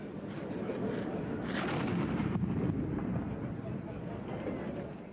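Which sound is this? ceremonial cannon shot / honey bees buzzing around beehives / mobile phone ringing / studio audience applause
ceremonial cannon shot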